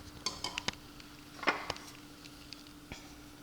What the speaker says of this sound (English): Now I'm going to stir my starter before I take any out of it.